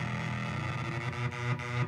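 A Eurorack modular synthesizer churns out a harsh, distorted, buzzing drone with steady layered tones and a few rhythmic dips, fairly quiet and heard alone with no speech.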